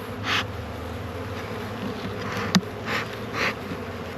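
Honeybees drone steadily in an open beehive, a close, continuous buzz with individual bees swelling louder as they pass near, plus a single sharp knock partway through.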